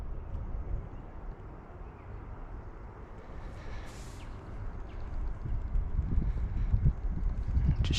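Steady wind buffeting outdoors on the water during a micro fishing trip, a continuous low rumble across the microphone that swells louder toward the end, with no other clear sounds.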